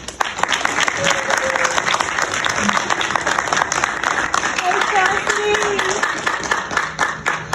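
Audience at the Ms Wheelchair South Carolina Pageant claps steadily for the contestants, a full, continuous round of applause with scattered cheers and murmuring voices beneath it.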